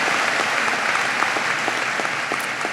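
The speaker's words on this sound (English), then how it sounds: "Give that Final Four soccer team another round of applause." Loud, steady applause from a crowd at a university winter undergraduate commencement ceremony, continuous clapping filling the hall without a break.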